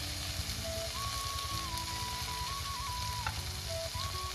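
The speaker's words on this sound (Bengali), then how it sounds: "একসাথে দিয়ে আমি ভালো করে এটা ভেজে নেব।" Chopped tomato, black cumin, ginger and garlic frying together in a pan, a steady close sizzle with a faint tonal whine running over it and no speech.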